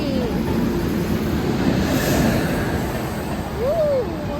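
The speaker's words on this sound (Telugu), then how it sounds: "మన విశాఖ ట్రైన్ అయితే వచ్చేసింది" A Visakhapatnam-bound passenger train pulls into a large railway station, its steady low rumble and rolling noise filling the platform with faint horn-like tones sliding near the end.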